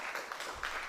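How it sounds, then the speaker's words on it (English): Audience applause for conference presenters in a theatre, a steady, moderately distant patter of many hands clapping with no talk over it. "let's have a round of applause for the presenters"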